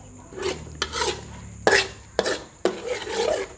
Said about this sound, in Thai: ถ้าเราผัดน้ำพริกค่อยๆผัด